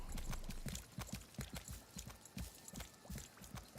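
Horse hooves clip-clopping across a bridge in the video game Lost Ark, a steady rhythmic trot of distinct knocking steps, fairly close, with no voices.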